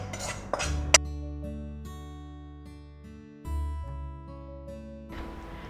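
Metal utensils clink and scrape against a pan as fried onions are scooped out, with a sharp clang near the start and soft sizzling toward the end.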